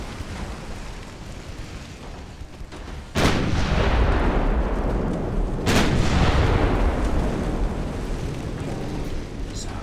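Heavy naval guns fire in the warship game Ultimate Admiral Dreadnoughts, two loud booming salvos a few seconds apart, each rolling into a long rumbling tail over continuous battle ambience.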